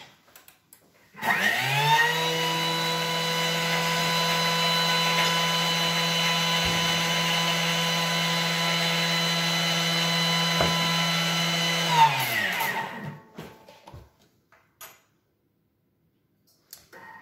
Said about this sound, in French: je mixe la vanille et le sucre 10 secondes à vitesse 10